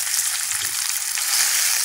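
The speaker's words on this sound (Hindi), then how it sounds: "इसको हमें अच्छे से फ्राई करना है।" Boiled, lightly mashed potato fries in ghee in a pan, giving a steady, close, continuous sizzle with soft stirring scrapes, with no voices over it.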